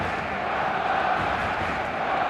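A big stadium crowd in the eFootball video game roars steadily in a dense, continuous wall of cheering, heard alone for a couple of seconds.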